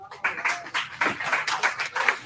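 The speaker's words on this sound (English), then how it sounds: "Give yourself a round of applause." Round of applause from a gathered staff audience, separate close claps in an uneven rhythm, moderately loud, with no speech over it.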